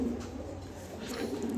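A pair of racer pigeons cooing softly and close by, a low steady murmur over background noise, with no talking.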